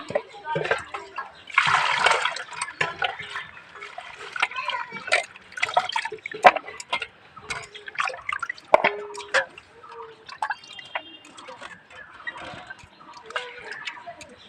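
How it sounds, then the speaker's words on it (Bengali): Chopped potatoes washed in a bowl of water, with close splashes, drips and small ticking knocks that come in uneven bursts and fade and return. A brief voice may sound faintly in the background. "সমস্ত আলুগুলো কুচু কুচু করে কেটে নিয়েছি এবার জলে ধুয়ে নেবো"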